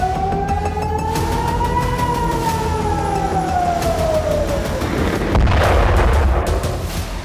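Air raid sirens wailing over Tel Aviv during a missile attack, a long rising and falling tone that carries loudly and steadily, joined near the end by a burst of broadband rumble like distant explosions or interceptions.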